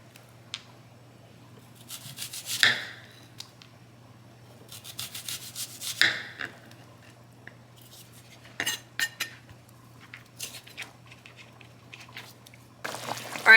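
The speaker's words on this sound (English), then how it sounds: "I'm also going to cut just a little bit of onion" A knife cuts a small amount of onion on a cutting board, giving scattered close, quiet strokes and scrapes with long pauses between them.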